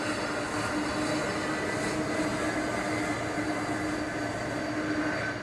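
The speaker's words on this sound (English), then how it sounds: "1 KC-135 and 8 KC-46s lined up and departed from the runway sequentially." KC-135 and KC-46 tanker jets take off one after another from the runway at McConnell Air Force Base, Kansas, producing a steady, sustained engine roar at moderate distance.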